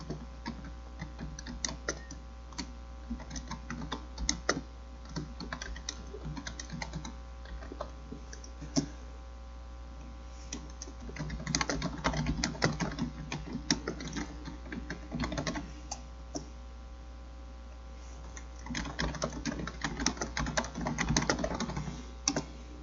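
Computer keyboard clatter while working in Photoshop, steady clicking keystrokes for over twenty seconds with denser bursts of fast typing around the middle and again near the end, under a constant low hum.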